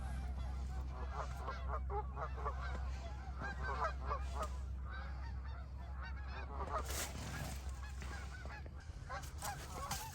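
A flock of wild geese honks during a hunt at dusk, a dense chorus of repeated calls from birds at middle distance over a low steady rumble.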